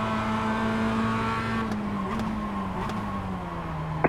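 Racing car engine drones loud and steady throughout from the driver's seat during a circuit race, with another race car running alongside on the left, its pitch easing slightly downward near the end.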